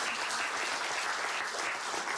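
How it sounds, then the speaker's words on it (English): Audience at a television industry presentation clapping steadily, a dense close patter of applause sustained for a couple of seconds. "you can applaud if you'd like to."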